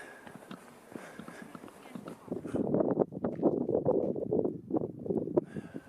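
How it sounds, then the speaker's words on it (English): Wind gusts across a mountain trail during a hike, with low rumbling buffeting that strengthens partway through and a few faint footstep-like sounds, with no voices. "Getting higher. Getting windier."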